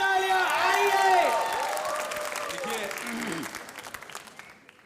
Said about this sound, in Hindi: अनिल सर एंड माधुरी दीक्षित के लिए जोरदार तालियां।